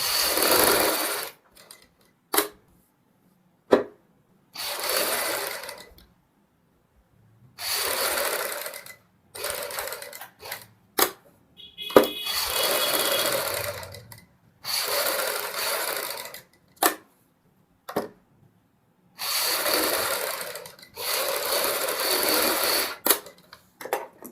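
A sewing machine stitches around a garment neckline in a boutique, running in loud, close bursts of rapid whirring separated by short pauses, with no voices over it.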